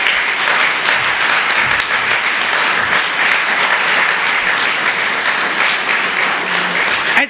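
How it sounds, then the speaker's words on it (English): A theater audience at an improv comedy mayoral forum in St. Paul applauds the candidates with steady, dense, loud clapping that continues for several seconds. "a tremendous round of applause for all 5 candidates who joined us this evening"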